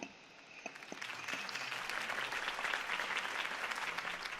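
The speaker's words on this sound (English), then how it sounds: "could have heard that applause" A crowd in the video game Batman: The Telltale Series breaks into sustained applause that swells and holds steady, a dense wash of clapping after a few isolated claps.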